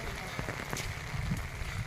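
A steady, light patter of fine rain falls outdoors near farm fields, forming a continuous soft wash with a few brief taps, fairly faint throughout.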